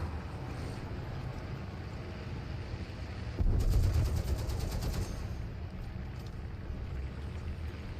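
A machine gun fires in an early-aircraft battle in War Thunder, a rapid even burst lasting about two seconds that rises over steady engine and wind rumble before the drone continues alone.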